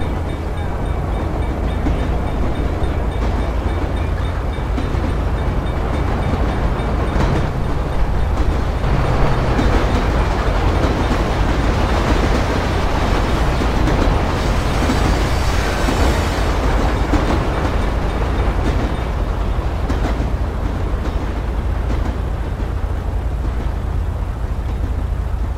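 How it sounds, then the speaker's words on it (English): A train in GTA V rumbles past loudly and close, a dense continuous roar of wheels and rail clatter lasting throughout. "Looks like the train's coming."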